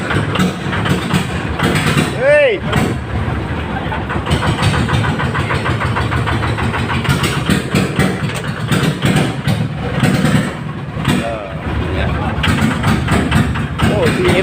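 A vehicle fitted with a loud aftermarket exhaust idles at a service shop, then revs sharply once early on before settling back to a rough, throaty idle, with voices talking over it.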